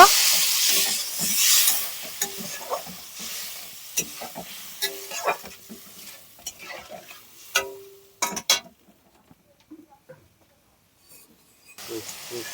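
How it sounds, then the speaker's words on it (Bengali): A turmeric spice paste sautés and is stirred in a pan, giving a hissing sizzle that flares at first, with scraping spoon strokes and clinks, before it drops almost to silence and briefly returns. "মশলাটা কষানোর জন্য সামান্য জল দিয়ে দেব"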